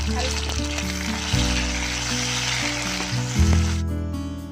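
Tomatoes dropped into a pan of browned onions frying in oil, a loud continuous sizzle that surges as they go in, with stirring and a low steady hum underneath.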